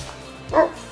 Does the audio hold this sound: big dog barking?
yes